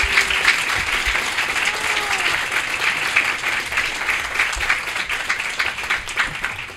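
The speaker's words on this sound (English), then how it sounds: "give them a round of applause" Audience applause after a conference panel fills the room, dense and steady with a brief faint voice near the start, clapping sustained at moderate loudness throughout.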